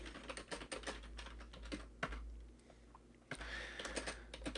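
Someone types a C program into Notepad on a computer keyboard, with quick irregular bursts of close key clicks, a short pause, then more typing over a low steady hum.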